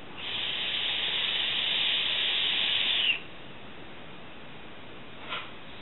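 A hissing draw of air through an Hcigar Plume Veil vape dripper, one steady near inhale lasting about three seconds, then quiet with a faint brief puff near the end.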